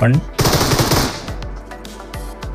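Rapid automatic gunfire in a battle royale video game, loud and close bursts of shots followed by sharper single reports, with a player's voice briefly audible underneath.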